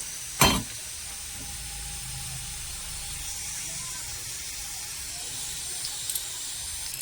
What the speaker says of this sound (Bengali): কড়া এরকম লাল লাল করে ভেজে নিতে হবে